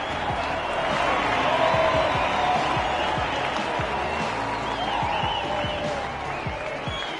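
A rugby stadium crowd after a try, a dense continuous roar of cheering and applause that holds steady for several seconds, with a commentator's voice faintly audible under it.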